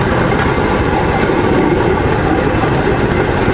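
A rail draisine rolls along an overgrown narrow-gauge railway and brakes to a stop, giving a loud, steady rumble of wheels and engine noise with no talk over it.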